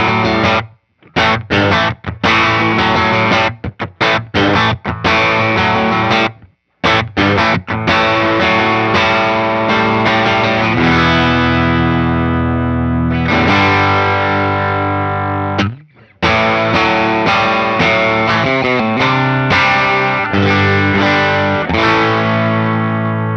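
An electric guitar on its bridge pickup plays through a Dr. Z Maz 18 or Magnatone Varsity Reverb amp, heavily driven and distorted, with choppy strummed chords, brief stops and sustained ringing notes, loud and close with no talking.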